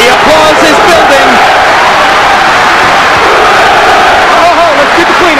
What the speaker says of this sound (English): The applause is building.